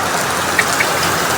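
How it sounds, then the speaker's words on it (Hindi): Heavy, unseasonal rain pours down steadily in Delhi, a dense, loud, unbroken hiss with a couple of faint drip ticks. "बारिश पड़ रही है भाई, चकाचक बारिश पड़ रही है"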